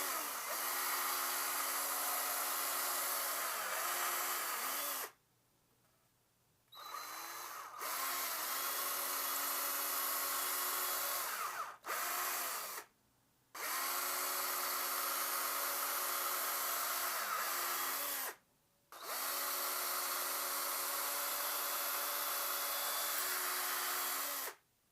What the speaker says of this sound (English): so you can use your drill